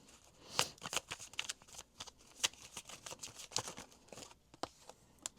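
Tarot cards are drawn and shuffled from a deck in a string of quick, soft papery flicks and slaps, close up and faint, with no talking.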